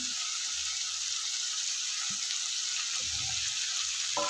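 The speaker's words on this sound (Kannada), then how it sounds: "ಶುಂಠಿ ಇದಿಷ್ಟು ತುರ್ಕೊಂಡು ಇಟ್ಕೊಂಡಿದ್ದೀನಿ ಇದನ್ನು ಹಾಕೋತಾ ಇದ್ದೀನಿ" Grated ginger frying in a pan, a steady close hiss of sizzling oil that holds evenly throughout, with a few faint low knocks and no talking.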